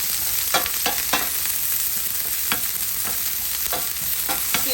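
Onions frying in a pan for seafood pasta, a steady loud sizzle broken by several sharp scraping strokes of a spoon stirring them around, with no talking.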